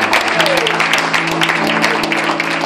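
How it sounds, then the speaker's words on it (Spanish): A church congregation applauds to welcome a visiting brother and his friend, dense continuous clapping throughout with a sustained musical tone underneath. "un aplauso para el hermano Antonio y su amigo que nos visita hoy"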